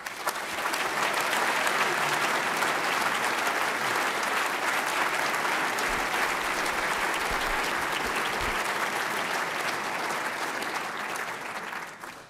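Sustained applause from a large audience at an engineering academy induction ceremony, a steady dense roar of clapping that holds evenly for about twelve seconds before tapering slightly at the end.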